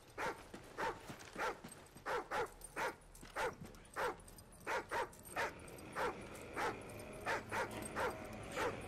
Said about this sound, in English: What is this dog up to?